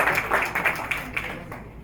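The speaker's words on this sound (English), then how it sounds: "A massive round of applause for Barry" An audience at an academy launch event claps for a speaker, a dense, fairly loud burst of many hands clapping that thins out and fades within about two seconds.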